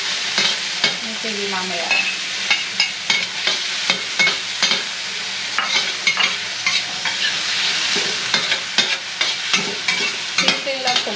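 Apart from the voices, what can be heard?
onion and garlic frying in a pan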